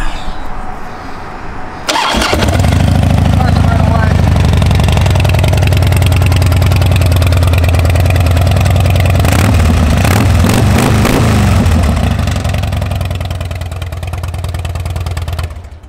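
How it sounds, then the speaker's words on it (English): A 2006 Harley-Davidson Dyna Wide Glide motorcycle starts after a brief quiet moment and settles into a loud, close, steady idle with a deep rumbling beat, briefly blipped midway, running alone without talk. "Great running bike"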